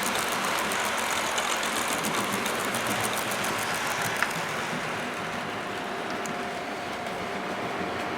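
A Hornby model train pulling coaches runs along a layout, giving a continuous close rolling rumble with rhythmic clicking of wheels over rail joints and a faint steady motor whine, with no voices over it.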